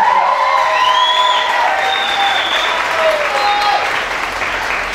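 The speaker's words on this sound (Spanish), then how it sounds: "Un aplauso." Loud audience applause with some cheering for a guitarist introduced at a band's album launch concert, a dense wash of clapping that holds steady and tapers slightly at the end, with whistles and voices mixed in.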